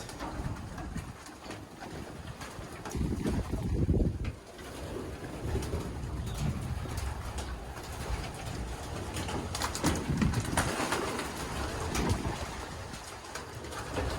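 Soft pigeon coos repeat low and steady against a constant hum of background noise, with a few louder bursts of cooing, at a racing pigeon intake and loft inspection.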